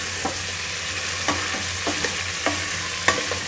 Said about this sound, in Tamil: இதெல்லாம் ஒரு நல்ல ஒரு வதங்கி வதங்கட்டும்.